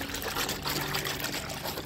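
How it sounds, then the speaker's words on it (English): Baby wash soap is poured into a basin of water, making a continuous splashy trickle throughout with no talk over it. "So you just pour in the soap."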